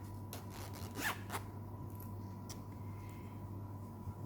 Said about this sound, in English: put my hand inside this loop and open the zipper